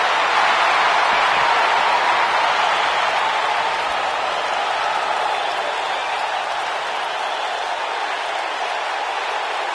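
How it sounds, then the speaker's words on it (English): A loud, steady roar of a large crowd fills a wrestling video game arena in Philadelphia, cheering and applauding continuously without breaks throughout, with no voices standing out. "We've got a raucous crowd here in Philadelphia tonight"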